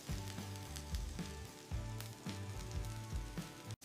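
Steak searing in a hot pan gives a loud, continuous sizzle and crackle with small popping bursts throughout and no voices.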